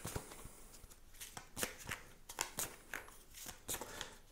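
Oracle cards are shuffled and drawn by hand, producing quiet, irregular riffling flicks and soft snaps close by, with no talking.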